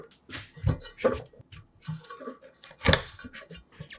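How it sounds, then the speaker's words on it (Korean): Chunks of radish being laid in a layer in a braising pot in a home kitchen, a few soft knocks and clacks of the pieces and pot at close range, with no talking. "조림 냄비에 한층 깔아주고"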